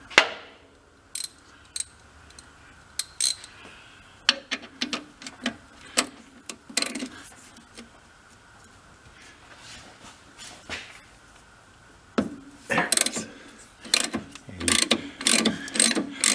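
A hand ratchet turns a 10mm six-point socket on a bolt of an abandoned plow truck, its pawl clicking in repeated bursts of rapid ticks with pauses between strokes, close and clear with no talk.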